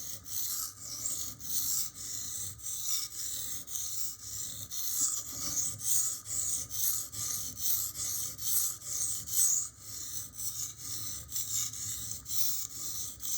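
Even back-and-forth strokes of a stainless steel knife on a Lidl Parkside sharpening stone, a close, steady rasping rhythm that keeps up throughout without any talking.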